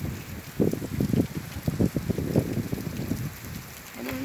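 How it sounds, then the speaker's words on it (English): Rain falling on a rainy day, a close patter of irregular drops hitting surfaces over a soft wash of background hiss, moderately loud and without talk. "Love the rainy days."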